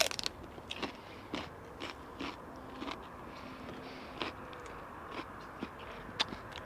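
Freshly harvested celery is bitten and chewed, giving a series of faint, dry crunches spaced irregularly over several seconds, heard close and alone against quiet outdoor background.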